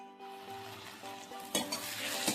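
Tomatoes and onions sizzle as they sauté in a pan for a quick biryani, a steady close frying hiss with a couple of louder stirring bursts toward the end.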